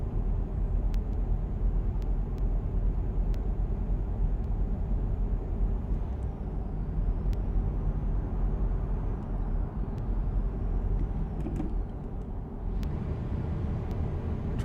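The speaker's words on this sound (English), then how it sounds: "Trying to get the truck up to speed here." Heavy truck engine droning steadily as the rig accelerates in American Truck Simulator, a continuous low rumble with faint shifting tones and occasional clicks, loud and without talk.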